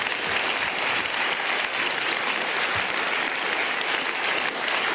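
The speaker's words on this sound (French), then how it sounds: "on vous applaudit tous les deux de toute façon." Steady, dense applause from a studio audience on a French television talk show in Lyon, a continuous even roar of clapping.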